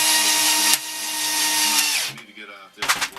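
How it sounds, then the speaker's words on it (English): A power drill drives long screws at an angle through two boards, a loud high whine running continuously, a brief dip, then stopping, followed by short clattering handling noises. "I'm driving them at an angle because they're too long for the two boards"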